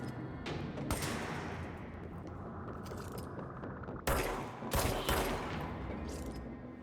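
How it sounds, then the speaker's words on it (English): Gunfire in the action game Control, bursts of rapid shots set against a steady background, with louder, sharper volleys clustered in the last few seconds. "Someone shooting at me."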